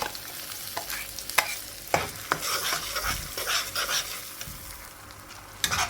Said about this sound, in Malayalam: നന്നായി ഇളക്കി മിക്സ് ചെയ്ത് കൊടുക്കുക